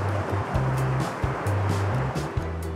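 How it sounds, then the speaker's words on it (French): Sea waves wash onto the beach at Calais in a steady, loud roar of surf, with a low intermittent rumble underneath and no voices. "Il y a des vagues à Calais, faut pas traîner."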